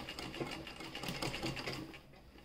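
A sewing machine runs steadily, stitching thread piping along the root of a neckline seam on a garment, a continuous close mechanical whir with rapid needle rhythm throughout.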